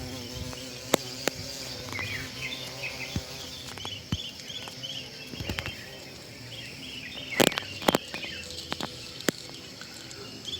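A bee or beetle buzzes faintly around violet flowers while drinking nectar outdoors, a soft, wavering hum with scattered small ticks and rustles and a few louder clicks in a quiet natural setting.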